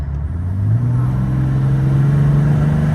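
A Ram truck's Cummins diesel engine with an HE351VE turbo, just warmed up and held at full throttle, gives a loud, close, steady roar that climbs slightly in pitch and holds without sputtering.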